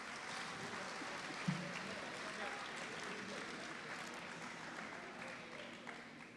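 Faint, distant audience applause at a community center ribbon cutting, a soft wash of clapping heard through room noise, with one sharper knock near the start.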